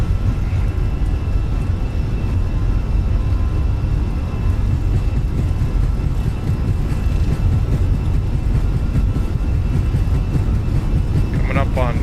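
A Fenix A320neo in Microsoft Flight Simulator rolls down the runway for takeoff, giving a steady loud roar of jet engines and wind throughout, with a voice talking over it.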